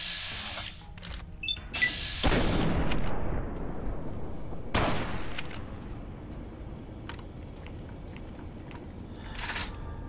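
Pulse grenade blasts and gunfire in a Fallout: New Vegas firefight, a few sharp loud bursts with crackling decay and scattered clicks, mostly without talk.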